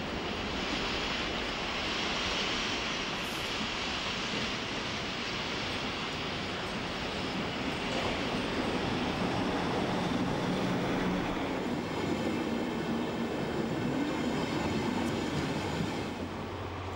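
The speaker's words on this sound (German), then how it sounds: "Im Gleisvorfeld nähert sich ein Intercity. Die legendäre 103 steht zu diesem Zeitpunkt noch voll in Lohn und Brot." An Intercity train hauled by a class 103 electric locomotive approaches through the track field at Nürnberg, a steady broad rumble and rail roar holding loud and even throughout with no talk.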